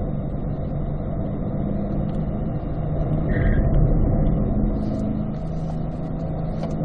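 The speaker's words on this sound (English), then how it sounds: "Now get on the gas, looking left." A 2020 Chevrolet Corvette C8 with paddle shifters accelerates on a race track, its engine a dense, steady drone that swells slightly midway, heard from inside without talk.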